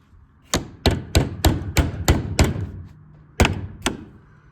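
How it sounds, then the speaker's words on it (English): A hammer strikes a bent part on a dairy farm to knock it back into place: about nine sharp, loud, close blows, first in a quick steady series, then a pause and two more. "So I'm gonna go get a hammer and do some hammering."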